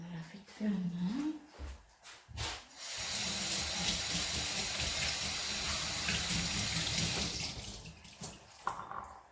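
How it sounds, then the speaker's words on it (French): Tap water runs steadily into a sink for about six seconds while hands are rinsed during homemade flaxseed shampoo preparation, a fairly loud continuous splashing hiss, with brief speech and handling noises before and after. "Je me lave vite fait la main."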